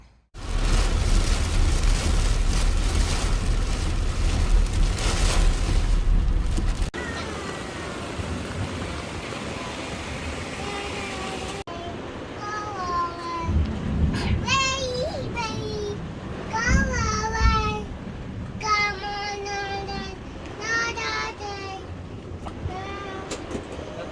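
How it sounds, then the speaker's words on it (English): Heavy rain pours noisily for several seconds as a dense, loud roar, then the scene shifts to a quieter background where a voice talks over music-like tones. "the rain started pouring heavily"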